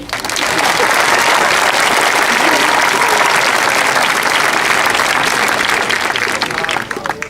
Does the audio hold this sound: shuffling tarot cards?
no